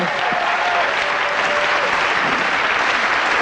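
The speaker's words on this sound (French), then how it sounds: "Merci d'applaudir Virginie et Kylie Minogue, ainsi que Laurent" A TV studio audience applauding a guest alongside Kylie Minogue, steady dense clapping that holds at an even, loud level throughout, with no voices over it.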